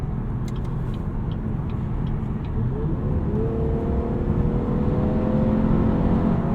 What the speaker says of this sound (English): I love that GM went with a naturally aspirated V6 in this car. It sounds great. It pulls really hard.